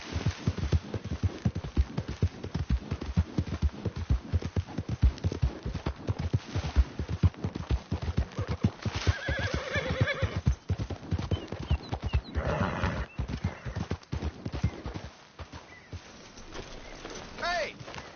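A horse gallops in Red Dead Redemption 2 with steady, rapid clip-clop hoofbeats throughout, joined by a whinny and faint birdsong in the background.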